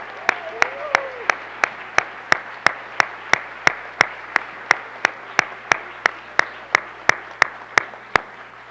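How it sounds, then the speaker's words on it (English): A school board meeting audience applauds in recognition of a teacher's 40 years of service, with steady rhythmic clapping, a distinct beat roughly every third of a second, throughout. "One more round of applause."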